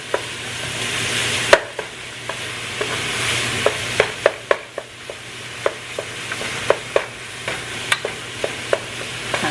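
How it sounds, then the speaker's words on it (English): A wooden spoon chops sausage in a frying pan for rigatoni pasta, with a run of sharp, evenly spaced taps over steady sizzling, close and clear, and no talking. "Trying to get this sausage chopped up. And goodness, I'm using this wooden spoon."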